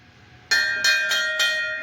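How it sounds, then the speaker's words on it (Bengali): A Hindu temple bell at a Shiva temple in Bardhaman is struck four times in quick succession, each clang ringing close and bright with a lingering metallic hum between strikes. "আর এই হচ্ছে ঘন্টা ভাই একবার ঘন্টাটা একবার বাজাতো"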